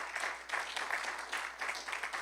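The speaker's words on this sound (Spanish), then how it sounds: "Dele una ofrenda de palmas al Señor." A church congregation applauding during a service, a sustained burst of steady clapping from many hands at moderate distance, fairly even in loudness without talking.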